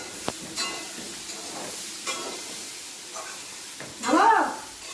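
Cauliflower, potato and beans frying in a pan, a soft, quiet sizzle with a few stirring clicks and scrapes, swelling into a louder burst of hissing near the end.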